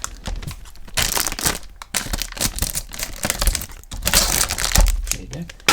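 Scissors snip and crinkle through package wrapping in a run of close, irregular cutting and crackling bursts.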